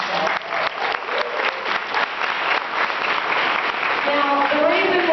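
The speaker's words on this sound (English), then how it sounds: "Can I get a round of applause?" An audience at a Visalus Atlanta Challenge Party bursts into dense, sustained applause that continues at full strength for the whole clip, with a voice faintly heard underneath.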